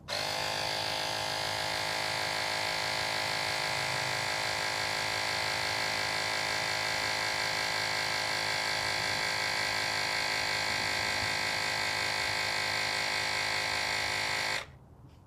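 A mini electric air pump inflates a tire with a steady, loud motor hum and buzz that runs unbroken for about fourteen seconds, then stops abruptly when it shuts off automatically at the set pressure.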